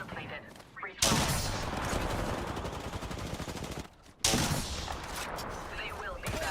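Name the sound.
Stinger weapon firing in a video game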